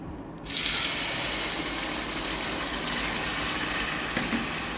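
Rawon spice paste hits hot oil in a pan and starts frying, bursting into a loud, steady hiss and sizzle that holds constant with no talking.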